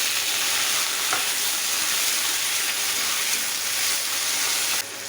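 Onion and tomato fry in a pan with dried chili and panch phoron for an egg aloo posto. A loud, dense, hissing sizzle holds steady throughout and drops slightly just before the end.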